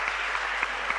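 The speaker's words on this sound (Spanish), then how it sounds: "Un gran aplauso a la doctora María Fernanda." Audience applause at a medical lecture on antiretroviral therapy, honoring the doctor who spoke: steady dense clapping throughout a short burst, fairly loud and even, with no voices.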